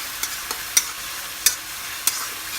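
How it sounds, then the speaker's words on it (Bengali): Spice masala frying in a pan for Bengali chicken curry, a soft steady sizzle broken by a few sharp scraping stirs, close and moderately quiet with no talking. "এটা একটু ভেজে নেব"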